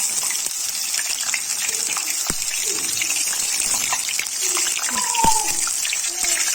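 Running water gushes steadily from a tap while food is rinsed in a home kitchen during cooking of chicken and meat çiğ börek, a continuous broad hiss with a few light clinks, and a voice speaks briefly over it.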